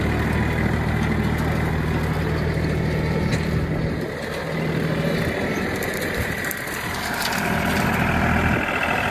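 A tractor mows a path across a homestead field, its engine droning steadily and loudly at close range with a low rumbling hum and slight swells in intensity throughout.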